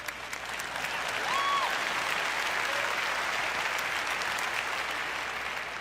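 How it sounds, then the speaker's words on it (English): A large conference general session audience claps in agreement, sustained and fairly loud applause that swells quickly and holds steady, with a faint tone or whistle briefly rising above it. "If you agree, clap."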